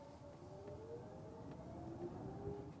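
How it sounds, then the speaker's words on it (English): A Genesis GV70 EV plays its synthetic natural electric motor driving sound, a faint, smooth tonal whine that slowly rises in pitch over a low cabin rumble. "provides a natural electric motor sound for electric vehicles"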